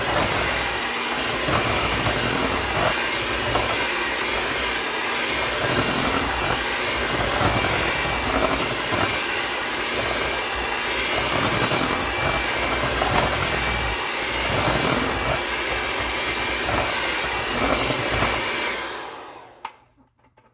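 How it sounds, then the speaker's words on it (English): A lard mixture for tamale masa being whisked hard in a bowl, a continuous loud whirring, buzzing drone that holds steady for about nineteen seconds before cutting off at the end. "So all I'm gonna do is give it a good whisk with this."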